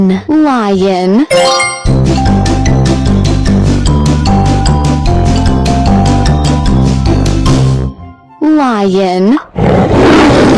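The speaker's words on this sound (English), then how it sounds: "L-I-O-N, lion." Loud roaring cries open and close a children's animal-sounds lesson, framing a bright plinking musical jingle with a steady beat in between; the roars are up close and forceful.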